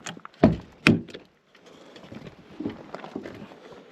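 Old Chevy C10 pickup, long abandoned in the California hills, has its door pried open: two sharp creaking thuds followed by scraping and rattling of the worn metal door, close by with no talk.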